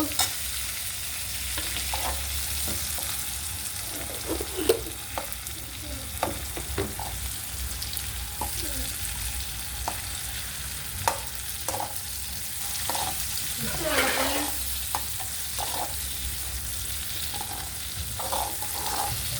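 Butter sizzles in a pan on the stove while a utensil stirs it now and then, a constant soft frying hiss broken by occasional scraping knocks.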